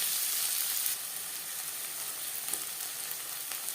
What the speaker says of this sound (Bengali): 3 চামচ রিফাইন্ড অয়েল গরম করে নেওয়ার পর দিয়ে দিলাম পেঁয়াজ।